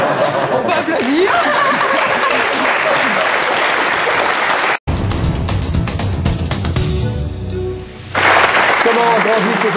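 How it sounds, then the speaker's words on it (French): A studio audience at a French TV talk show claps loudly, mixed with chuckles and crowd chatter. Partway through, the applause cuts off abruptly and gives way to different, more tonal sounds and voices. "On va applaudir."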